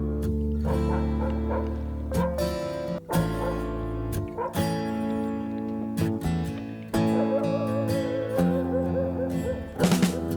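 Barking and yelping dogs are woven into a song, recurring in short bursts over sustained guitar and keyboard tones throughout the passage.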